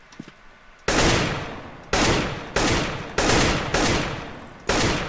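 AK rifle gunfire on the Aim Botz training map in a video game comes in loud, close bursts: six sharp blasts in quick succession, each followed by a short ringing tail, with no talk.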